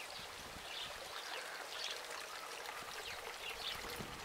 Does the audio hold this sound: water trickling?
yes